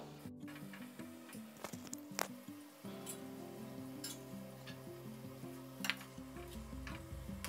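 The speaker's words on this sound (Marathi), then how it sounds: "अशा पद्धतीने आपल्याला कापण्या ज्या आहेत त्या तळून घ्यायच्या आहेत" Jaggery kapnya snacks fry in hot oil with a steady close sizzle and bubbling, with occasional stirring clinks over a low musical hum, and no voices.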